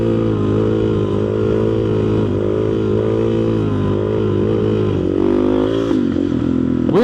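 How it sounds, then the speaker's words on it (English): A motorcycle engine revs hard and steadily while the rider pops a quick wheelie, the loud, close drone rising and falling with throttle changes before easing as the front drops back down. "get a quick little wheelie in here"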